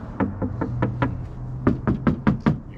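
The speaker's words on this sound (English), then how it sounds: "If it was solid, it would sound like this." Knocks on a hollow metal slab door, fire rated with a small window, land as two clusters of resonant raps: five even knocks, a short pause, then five louder ones, close and clear with no talk.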